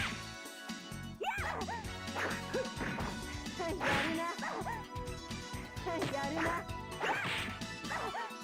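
A dog barks and yips repeatedly indoors, the short sharp barks mixed with loud crashes and thuds from a video game playing nearby.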